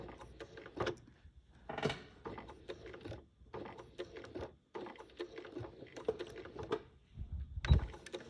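A sewing machine stitches a hanging sleeve onto the back of a quilt, running in short mechanical bursts with pauses between them, and a few clunks and handling sounds close by.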